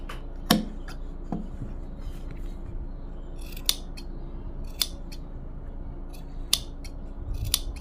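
Scissors snipping through kameez fabric to trim the neck piece thin, a series of crisp, close cuts spaced irregularly over a quiet background.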